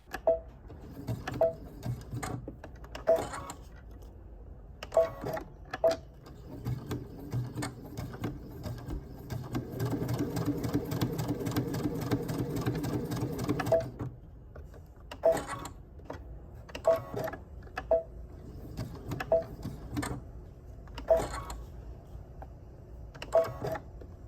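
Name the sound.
sewing machine stitching with gold thread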